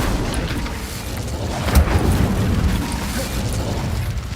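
A fire spell cast in Hogwarts Legacy gives a rumbling, roaring whoosh of flame with a soft burst near the middle, loud and sustained, with no voices.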